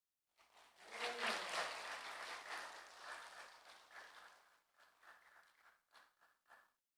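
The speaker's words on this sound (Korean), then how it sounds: "박수 한번 쳐요." A church congregation at a prayer retreat breaks into applause, a faint swelling patter of clapping that rises quickly, then thins out into scattered claps.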